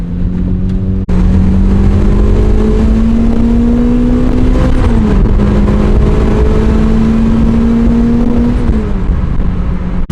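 A Celica GT-S Turbo pulls hard on a highway, engine pitch rising steadily through two long gear pulls with a brief shift drop between, loud in-cabin drone with wind roar and no talking.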